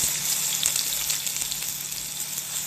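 Chopped onions sizzle in a hot pan as the base for homemade noodles, a steady dense crackle and hiss with small popping spatters, even and close throughout with no voices.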